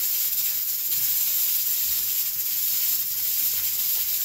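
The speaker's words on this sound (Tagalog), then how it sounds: "Ang ingay guys ng pressure cooker ko. Kasi habang kumukulo yung karne ko" A kitchen pressure cooker boiling meat gives off a steady, high, airy hiss that holds at an even level throughout, with no talking.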